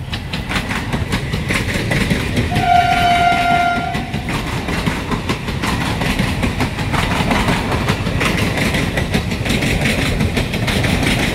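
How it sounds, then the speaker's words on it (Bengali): A train rolls past a muddy roadside market with a steady, loud rumble and clatter throughout, and a long horn blast sounds early on. "ট্রেন যাচ্ছে দেখো।"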